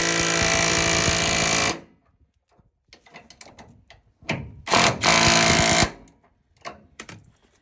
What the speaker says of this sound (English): let's get that upper shackle bolt tightened up